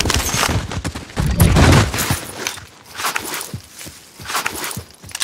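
Gunfire crackles in Call of Duty Warzone on the Caldera map, with repeated bursts and single shots rattling near and far over roughly five seconds, mixed with scuffing footsteps and a heavy thump early on.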